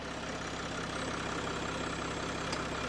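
A Range Rover L405 SDV6 3.0-litre diesel engine idles steadily after starting, a low, even rumble with a faint rhythmic knock, close by and unbroken, with no voices.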